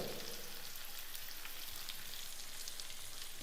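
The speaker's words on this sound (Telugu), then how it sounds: "ఇప్పుడు ఉల్లిపాయలు కూడా మంచిగా ఫ్రై అవ్వాలి" Chopped onions and vegetable pieces frying in a pan of hot oil, giving a continuous, even, hissing sizzle with fine crackles, steady throughout with no voices.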